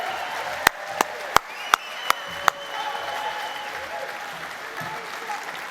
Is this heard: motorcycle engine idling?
no